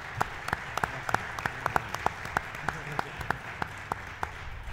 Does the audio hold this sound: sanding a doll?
no